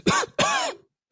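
Man vocally imitating someone choking and coughing on a sip of scotch at a fancy restaurant: two strained rasping coughs in quick succession, then a short gasp, close and alone.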